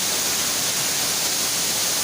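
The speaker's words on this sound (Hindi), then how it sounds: "देख सकते हैं कि झरना कितना आवाज़ कर रहा है, आपको भी आवाज़ इसका सुनाई देता होगा।" A waterfall at Jogi Kund, a forest picnic spot in Bihar, gives off a steady, loud, close roar of rushing water, unbroken throughout and with no voices.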